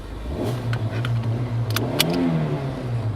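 A car engine hums from inside the cabin, revving up and settling in a low steady drone with a brief jangle of keys and small clicks, no talking.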